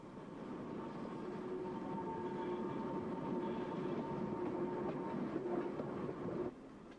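A narrow gauge train pulls into Ballinamore station on an Irish line, a steady mid-distance rumble and rolling wheel noise with a faint whine that cuts off abruptly near the end.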